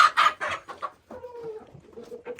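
Domestic chickens cluck in a close, busy burst in a small-farm henhouse, followed by a drawn-out softer call and a few quieter clucks.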